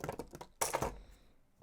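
Cutters snip beading wire for a layered necklace with a black onyx pendant: a few faint ticks lead into one crisp, close snap, then quiet.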